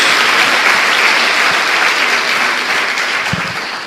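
A church congregation claps together in loud, sustained applause that fills the room evenly, the dense clatter easing only slightly toward the end.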